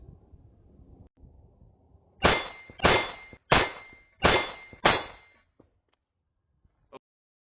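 Five pistol shots strike a steel target in quick, even succession, each a loud metallic clang that rings briefly before the next, followed by a faint click or two.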